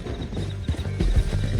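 A horse's hooves clip-clop steadily on the ground in Red Dead Redemption 2, a rhythmic trot of close knocks mixed with a continuous game ambience.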